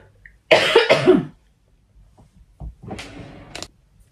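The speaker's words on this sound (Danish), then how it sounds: "Jeg blev lige overvældet af et hosteanfald der." A coughing fit: two harsh, loud coughs close together, a short pause, then another rougher burst of coughing nearby.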